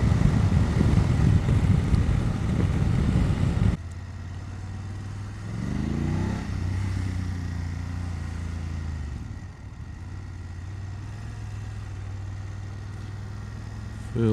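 2018 BMW F850GS motorcycle filtering through traffic, a loud rush of wind and engine at first, then a steady low engine drone with a brief rising rev, while a rider talks over it.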